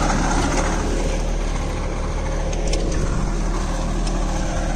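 A Captain 8G 283 4WD mini tractor ploughing with an MB plough sets up a loud, steady engine drone with heavy low rumble, continuous and close throughout.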